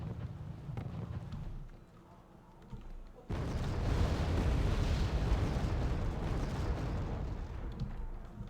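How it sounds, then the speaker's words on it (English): Counter-artillery shells land in Wargame: AirLand Battle: after a few seconds of quieter rumble, a sudden loud wall of dense explosive roar and crackling bursts sets in and continues steadily to the end. "Counter artillery is coming in now."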